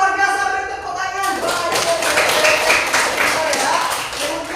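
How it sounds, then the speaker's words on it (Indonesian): Classroom applause of many hands clapping at once, a dense patter under a teacher's voice that starts the clip before the clapping takes over. "beri tepuk tangan"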